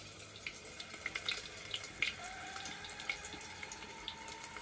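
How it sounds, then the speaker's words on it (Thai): Hands are rinsed under a kitchen tap while sausages are being fried, a quiet, steady trickle broken by small splashes and drips. "ล้างมือก่อนนะ"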